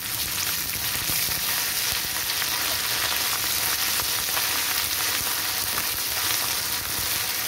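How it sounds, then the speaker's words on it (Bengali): Ginger paste frying with garlic in hot oil left from frying dried fish, an intense, even, close sizzle with fine crackling that holds steady the whole time, no voices present. "ভাজা ভাজা হয়ে এসেছে, আমি দিয়ে দিচ্ছি আদা বাটা।"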